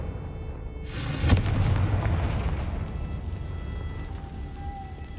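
Fiery blast from the Confringo spell in Hogwarts Legacy: a sharp burst followed by a broad, rumbling roar that slowly fades over several seconds against steady background ambience.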